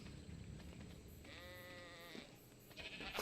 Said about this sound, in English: Look at all these goats.